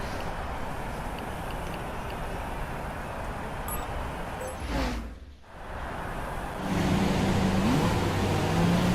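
A Formula 1 car engine in the F1 2016 racing game during the formation lap, a steady, loud engine drone that briefly dips around the middle, then returns with a rising whine.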